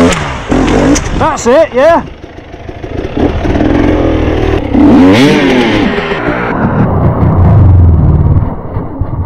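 An enduro motorcycle revving and accelerating loudly close by in bad weather, the engine rising and falling in bursts, with people talking over it.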